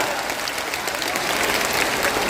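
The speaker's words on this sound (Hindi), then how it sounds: "अगर बुझाता तो ताली जोर से बजता ना" An audience at a political rally in Bihar claps in a dense, steady wave of applause, loud and close throughout.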